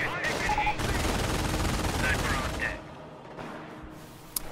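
Sniper rifle fire in a real-time strategy match: loud, sharp gunfire bursts up front that fade out partway through, leaving quieter game ambience and a single brief click near the end.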